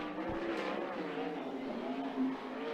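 A 360 sprint car roars around the Skagit Speedway track on a qualifying lap, its engine a continuous loud drone that holds steady throughout, with a slight swell near the end.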